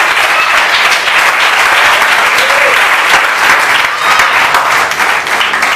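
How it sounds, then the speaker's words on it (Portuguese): Sustained audience applause fills a church testimony service, dense steady clapping from a large crowd held at a constant level for the whole stretch, with no voices standing out. "Pode aplaudir, pode aplaudir."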